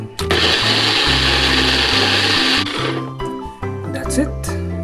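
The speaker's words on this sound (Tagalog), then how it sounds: "i-blender ko na siya." A blender whirs loudly and steadily, pureeing a mixture with chili powder, its motor pitch dipping as the mixture thickens, with music playing underneath.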